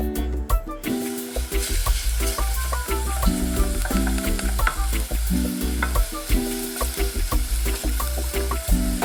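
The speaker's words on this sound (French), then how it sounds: "On va commencer par faire revenir les lardons avec un démarrage à feu froid" Lardons fry in a pan from a cold start, giving a steady close sizzle over nine seconds. A utensil stirs them now and then, and background music plays with no talking.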